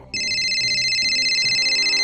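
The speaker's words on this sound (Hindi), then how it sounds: "फिर रिया को उसकी सहेली का फोन आया।" A phone rings with a steady electronic ringtone, a call from a friend, starting abruptly and continuing evenly at close range with a faint repeating pattern underneath.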